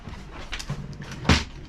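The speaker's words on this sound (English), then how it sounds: "I know that when I close this door, it's in there." A toolkit compartment door on a boat with a Yanmar 3GM30 engine closes with a single solid thud near the end, preceded by faint rustling and small knocks.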